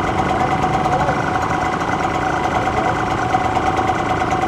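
Derbi GPR 125 motorcycle engine running steadily at a constant idle-like pitch, a dense, buzzing mechanical drone heard close and unbroken throughout, with no talk.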